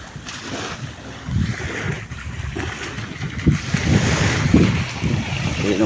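Waves wash onto the beach at Boracay, a steady roar of surf with gusting wind noise buffeting the microphone close up, and no clear voices.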